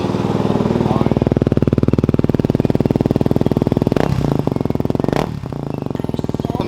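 Yamaha WR250R motorcycle with a Yoshimura RS-4 exhaust running just after starting: a loud, rapid, steady single-cylinder putter close by, with a couple of brief revs near the end.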